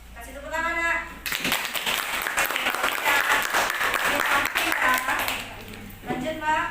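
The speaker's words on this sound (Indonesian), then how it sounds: "Kasih tepuk tangan, Nak." A classroom of students claps for a student group's presentation, a lively burst of applause of several seconds that falls between stretches of a student speaking.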